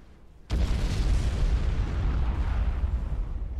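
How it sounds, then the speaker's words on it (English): Missile strikes explode in the real-time strategy game Supreme Commander 2, a sudden loud blast at half a second swelling into a dense, sustained rumbling roar that carries on to the end. "And here comes attack missiles."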